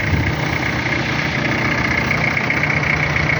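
A Kubota GT3 tractor engine idles smoothly and steadily at close range, a low, even rumble that holds constant throughout with no talking.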